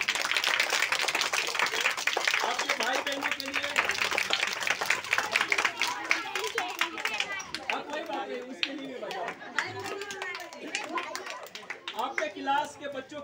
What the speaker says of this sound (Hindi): मम्मी के लिए सबसे ज्यादा तालियां बजाओ